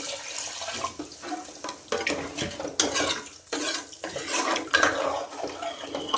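Water splashes and pours into a metal pot for chicken biryani rice in several bursts, mixed with light clattering of the vessel, close and fairly loud.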